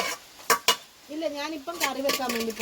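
A metal curry pot being cleaned in a village kitchen gives two sharp clanks close together, then a person talks over faint scraping.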